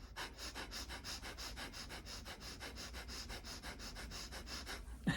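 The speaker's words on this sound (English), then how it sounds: "heavy duty ones, where you're breathing, exhaling hard through your nose" Forceful nasal exhalations in a breathing exercise, a fast steady rhythm of about twenty sharp puffs through the nose, close and even, with no talking.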